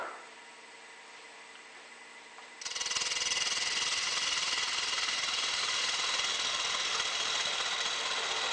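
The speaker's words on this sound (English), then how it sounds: "True the blank to a cylinder using a bowl gouge." A wood lathe spins a blank while a bowl gouge trues it to a cylinder. A quiet motor hum gives way after a few seconds to a loud, steady, rough cutting hiss that continues without a break.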